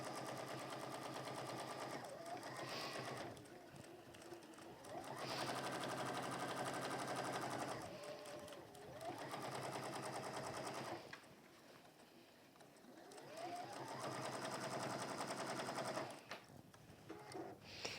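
A domestic sewing machine stitches around the edge of a fabric peg bag in long, steady runs of fast mechanical chattering, broken by short pauses, fairly close and with no voices over it.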